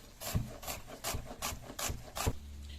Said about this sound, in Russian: А лук нарежем полукольцами.